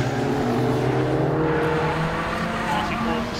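Rallycross race cars, including a yellow Escort, roaring along the track at full throttle in a steady engine drone with shifting tones, heard under continuous commentary.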